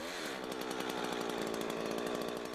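A Husqvarna chainsaw felling a tree roars steadily at high revs, cutting continuously with a buzzing, rattling tone and no pauses.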